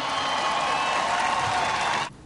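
A rally audience of more than 26,000 people cheers and applauds loudly in a dense, steady roar of clapping and shouting that cuts off abruptly near the end.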